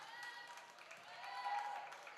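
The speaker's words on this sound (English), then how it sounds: "Storm is clapping it up" Bench applause at a women's community college basketball game after a missed free throw, a steady wash of clapping in an indoor gym, moderate and continuous with faint crowd murmur.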